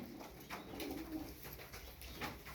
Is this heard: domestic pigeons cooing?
yes